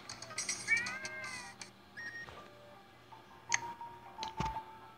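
A cartoon cat meows repeatedly in the video game Crashy Cats 2, with several drawn-out, pitch-bending meows, then quieter clicks and a few sharp ticks, with no talking.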